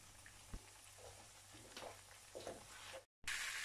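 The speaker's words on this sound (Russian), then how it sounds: "потом опускаю сюда вот наши чебуречки, нашу вкусняшечку. Пускай жарятся они у нас." Chebureki fry in hot oil with a steady close sizzle and scattered small crackles, briefly cut off before resuming louder.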